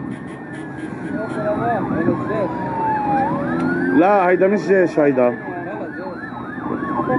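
Wailing ambulance sirens rise and fall continuously, several overlapping, with someone speaking briefly in French over them amid a busy outdoor rumble, after the Beirut explosion.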